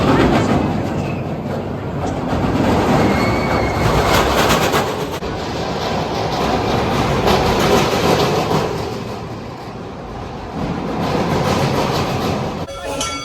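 The Scorpion roller coaster train at Busch Gardens Tampa runs with a long, loud rushing roar and clattering rails that rise and fall as it passes, heard steadily throughout with no clear talk.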